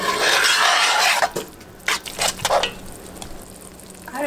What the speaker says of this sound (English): I constantly stir it until it starts to turn the golden color